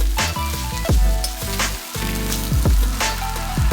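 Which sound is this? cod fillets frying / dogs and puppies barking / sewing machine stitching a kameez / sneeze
cod fillets frying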